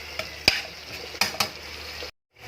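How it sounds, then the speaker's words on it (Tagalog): Mustard green stems drop into a hot pan where tilapia is cooking, giving a few sharp clatters and a burst of sizzling, with a short silence at the end. "Pwede na natin ilaglag guys yung tangkay ng ano, mustasa."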